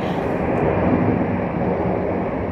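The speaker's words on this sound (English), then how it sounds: "It's an airplane. I live by the airport." An airplane flies over near an airport, a steady loud broadband rumble holding evenly throughout with no talk.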